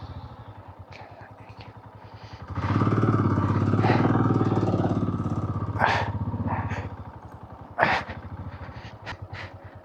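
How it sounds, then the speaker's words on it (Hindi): A motorcycle engine ticks at idle, then revs up into a loud, steady rumble as the bike moves off on a high Himalayan road near Komic, with clattering bursts and short vocal sounds toward the end. "बाइक जाता है इधर, बाइक जाता है इधर"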